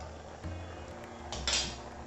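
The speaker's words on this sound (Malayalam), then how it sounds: "എന്നിട്ട് ഇതൊന്ന് നന്നായിട്ട് ഇളക്കിയിട്ട് നമുക്കിത് ചേന നന്നായിട്ട് വേവുന്നവരെ നമുക്കിതൊന്ന് അടച്ചു വയ്ക്കാം." A utensil stirs elephant yam curry in a metal pot, scraping and clinking softly up close before a lid clanks down to cover it, all quiet with no talking.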